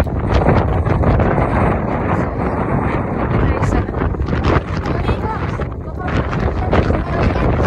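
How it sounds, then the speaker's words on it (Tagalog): Strong wind roars and buffets the microphone throughout, loud and continuous, with voices talking faintly underneath. "Malakas yung hangin. Malamig yung hangin dito."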